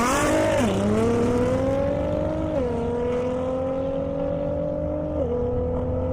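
BMW M5 Competition and Dodge Hellcat drag racing on a half-mile airstrip, a loud engine howl climbing through the gears with distinct shift drops, continuous and strong throughout.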